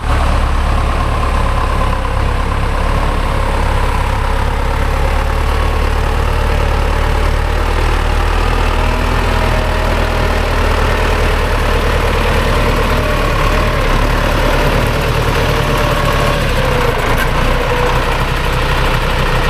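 A heavy tractor engine idling steadily, a constant low diesel rumble with a slight mechanical chug, close by and without voices.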